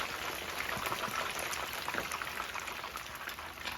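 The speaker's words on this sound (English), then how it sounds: "Yes, I'm done frying my fish." Fish frying in a pan gives off a steady, dense sizzle, a continuous crackling hiss with tiny pops that holds at an even, moderate level throughout.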